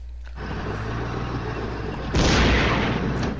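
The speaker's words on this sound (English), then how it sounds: "So he calls his artillery onto my tanks." Artillery barrage striking tanks in a World War II strategy game, a continuous rumbling roar of blasts that swells louder partway through, with no talk.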